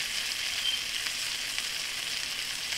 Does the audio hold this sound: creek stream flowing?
no